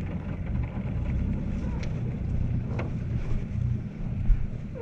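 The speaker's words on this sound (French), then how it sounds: "je vais mettre un petit peu de moteur." A cruising sailboat's auxiliary engine hums low and steady while the boat leaves a pontoon in a harbour, with wind buffeting the microphone and occasional faint knocks.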